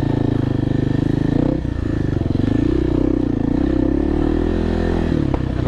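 A dirt bike rides a wooded OHV trail loop, its engine droning steadily and close throughout, with a brief dip in the middle and clattering and scraping from the rough ground.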